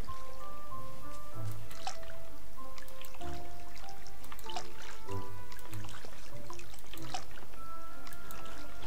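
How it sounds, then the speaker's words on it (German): Plants are watered in the video game Disney Dreamlight Valley, with soft dripping and splashing water sounds repeating over a steady background of game music, with no talking. "Ich gieße nochmal schön."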